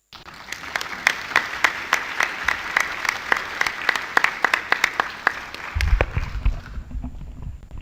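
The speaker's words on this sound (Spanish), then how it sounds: "con este aplauso despedimos al profesor Binder de la mesa" An audience at a legal conference applauds a departing professor, with full, close clapping and a few sharp individual claps standing out; the applause thins toward the end as low rumbling handling noise comes in.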